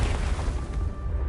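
A Confringo explosion spell in the game Hogwarts Legacy goes off as a dense, roaring blast that fills the whole moment, loud and close and heard on its own.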